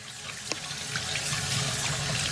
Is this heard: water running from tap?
yes